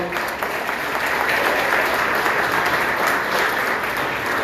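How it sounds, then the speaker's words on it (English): An audience applauds warmly for a speaker's stepdad, Mr. Idris, during a business talk; steady, moderately loud clapping from many hands carries on throughout at an even level. "give him a big round of applause"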